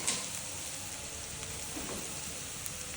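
Ginger paste added to onion and garlic frying in oil for mung dal bhuna gives a soft, steady sizzle, fairly quiet and even throughout, with a faint spatter here and there.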